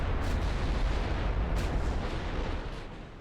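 A 15-inch battlecruiser shell strikes a warship's main deck in Ultimate Admiral Dreadnoughts, producing a heavy, rumbling naval-battle blast with a few sharper cracks inside it before it fades.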